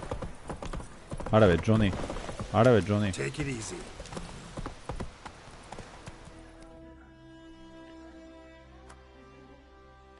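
Hooves clatter in a fast galloping rhythm as a horse runs in Call of Duty Warzone, loud and close at first with excited voices talking over it, then fading under game music.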